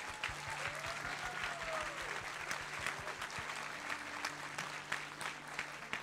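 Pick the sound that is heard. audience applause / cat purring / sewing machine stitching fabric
audience applause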